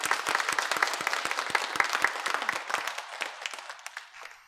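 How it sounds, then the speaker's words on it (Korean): A church congregation applauds during a Sunday worship service, with distinct individual claps close by within a full round of clapping that gradually fades toward the end. "우리 이분들 모두 위해서 축복과 격려의 박수 올려드리겠습니다"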